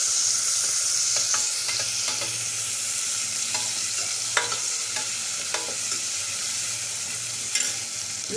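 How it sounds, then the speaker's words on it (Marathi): Long-cut onion slices with curry leaves sauté in a pan while a spoon stirs and scrapes, producing a steady soft sizzle with several sharper scraping strokes, fairly close, no talk. "कांदा घालायचा. कांदा थोडा परतून घेऊया,"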